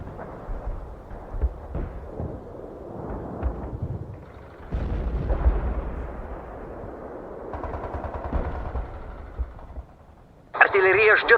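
Artillery fire and explosions rumble in a war video game, with repeated deep booms and bursts spread across the clip beneath radio-style voice lines announcing artillery and a sharp final blast.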